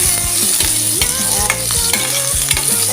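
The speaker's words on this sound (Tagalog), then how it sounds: "Ihulog na natin ang ating bawang." Garlic sizzles in hot oil in a pan, loud and close, with repeated scraping and clinking from a utensil as it is stirred.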